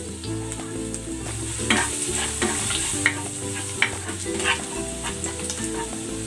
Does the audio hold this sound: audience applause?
no